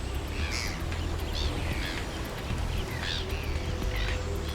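Gulls calling over a massive bait ball of fish at the sea surface, with repeated harsh cries at a moderate distance above a steady roar of wind and water.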